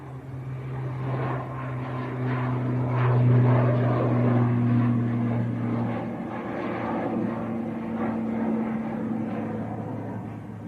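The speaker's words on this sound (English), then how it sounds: "Logan Air, ATR on the roll." Loganair ATR turboprop rolling for takeoff at Manchester Airport, a steady droning propeller hum with a sustained tonal whine that swells in the middle and then eases.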